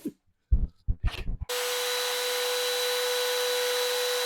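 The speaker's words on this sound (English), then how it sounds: "I'm using my new Rockler box joint jig on my homemade router table to notch 1/2 inch by 1/2 inch fingers" Homemade router table with a Rockler box joint jig notching 1/2 inch by 1/2 inch fingers for a cigar box guitar: a router starts up and runs loud and steady with a high whine after a few brief knocks and clatters.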